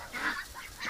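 Duck with an eye infection calling in a brief, faint burst of nasal honking quacks, no talk.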